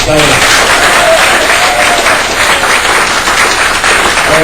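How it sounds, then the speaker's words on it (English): Loud, close applause from a comedy show audience fills the whole stretch as a thick, continuous wash of clapping, with a voice talking briefly over it at the start and end. "can I just get you guys one more time, round of applause"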